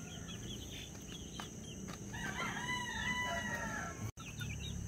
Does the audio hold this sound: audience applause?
no